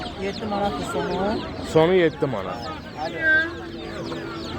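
Chicks chirping and peeping at a busy poultry market in Ganja, with bird calls overlapping steady nearby chatter and bargaining voices throughout.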